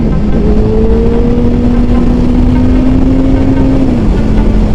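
A Yamaha MT-09 motorcycle engine runs loud and steady with a sustained drone whose pitch holds, then dips near the end, close to the microphone with no talk.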